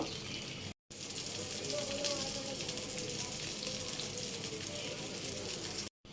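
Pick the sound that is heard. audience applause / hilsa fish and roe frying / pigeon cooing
hilsa fish and roe frying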